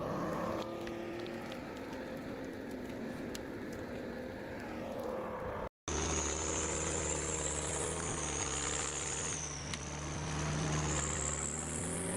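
A John Deere 1110D logging machine's engine drones steadily in a forest, a continuous mid-pitched hum with a brief cut midway before the running sound resumes.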